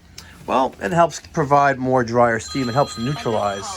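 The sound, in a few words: telephone ringing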